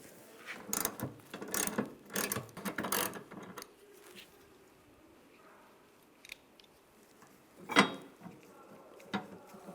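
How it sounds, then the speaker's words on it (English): Ratchet with a 10mm socket backing out a hood hinge bolt on a 2007-2013 Chevrolet Silverado 1500, heard as several quick bursts of clicking near the start and a lone sharp click later, with quiet gaps between. "Now we're going to take this bolt out"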